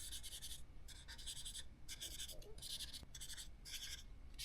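Acrylic marker held loosely at the end and stroked across paper while drawing cats, giving soft repeated scratchy strokes in bursts, close and fairly quiet, with no talking.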